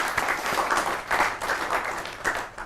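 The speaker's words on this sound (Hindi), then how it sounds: "एक बार जोरदार तालियों से स्वागत करता हूं मैं" Audience at a Holi kavi sammelan poetry gathering bursts into steady, dense applause, a close continuous patter of many hands with slight surges.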